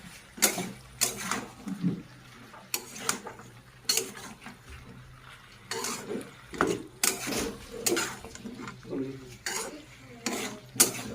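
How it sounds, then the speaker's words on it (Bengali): Chopped ridge gourd and eggplant stirred in a pan, with irregular scraping and knocking of a utensil against the metal over a soft sizzle, close by and steady throughout, no one speaking. "ঝিঙ্গা কুচি, বেগুন দিয়ে ভালোভাবে নাড়িয়ে নেব"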